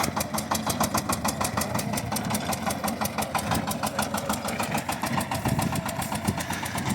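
A Shifeng 240 mini tractor engine runs steadily while the machine drives in third gear spreading fertilizer, a close, loud, rhythmic diesel chug with fast regular pulsing throughout, no talking.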